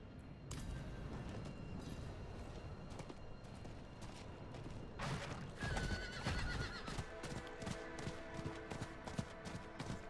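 A horse in the video game Diablo 4 galloping with rapid, steady hoofbeats, whinnying loudly partway through, over layered game ambience and music.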